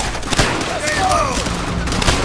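A machine gun hammers in Call of Duty: World at War, a dense continuous burst of battlefield gunfire with muffled shouting voices mixed into the din.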